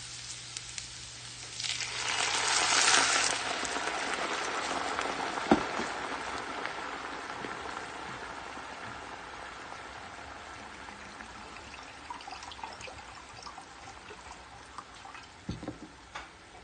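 Cold coffee poured into a pan of browned, caramelized onions and garlic, a rushing pour swelling over a couple of seconds, then settling into a steady, fairly quiet simmering hiss with occasional pops.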